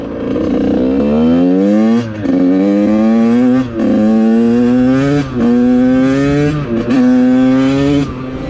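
A Yamaha YZ85 two-stroke dirt bike with VForce4R reeds and an FMF SST pipe with shorty silencer screams wide open on the street, loud and close, its pitch climbing through repeated rising revs with brief dips between gear pulls.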